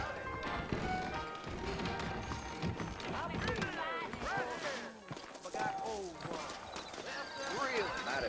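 Horses clip-clop along at a trot in the Red Dead Redemption video game, the hoofbeats continuous but low beneath almost constant character dialogue.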